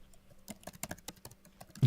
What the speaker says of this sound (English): Y'all hear her typing?